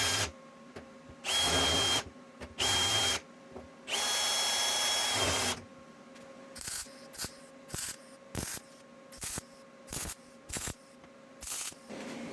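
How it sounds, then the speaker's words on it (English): A power drill drives screws into an old-school steel gas tank: three longer whirring runs, then a quick series of short, sharp bursts, close and alone. "I'm actually going to run screws in on all of these to clamp it down"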